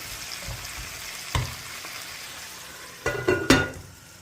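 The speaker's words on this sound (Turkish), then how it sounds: "Biberlerimiz bir tarafları yanmasın. Ve ben bunu kısık ateşte yapıyorum." Soft sizzling of peppers frying over low heat in a pan, with a few sharp clinks and scrapes of a utensil stirring near the end.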